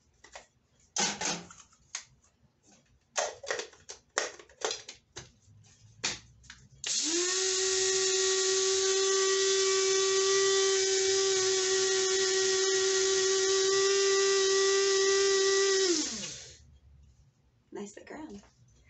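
An electric grinder milling sprouted, dehydrated wheat whines loudly and steadily for about nine seconds, starting abruptly and winding down, with clattering kitchen handling before and after.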